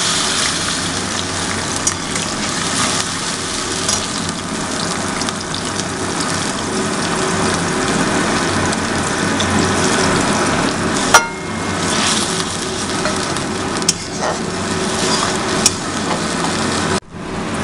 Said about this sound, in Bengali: এরপরে আমরা অনিয়ন এবং রসুন পেস্টটা দিয়ে দিচ্ছি এর ভেতরে।